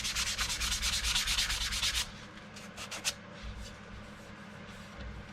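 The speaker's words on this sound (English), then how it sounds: "I will see how all these materials work with sanding paper and sanding sponge" Steady rhythmic strokes of sandpaper on nitro lacquer on a guitar rasp loudly for about two seconds, then a few lighter scattered rubs follow against quiet room tone.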